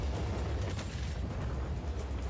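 Cannon fire explodes in Just Cause 4, a loud, dense booming blast that rumbles continuously through the whole moment with no speech over it.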